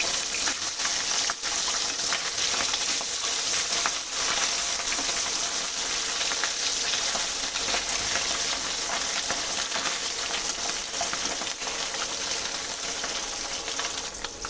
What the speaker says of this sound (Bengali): আমি ট্যাংরা মাছগুলো সব দিয়ে দিচ্ছি। এবার আমি ভেজে নেবো ভালো করে।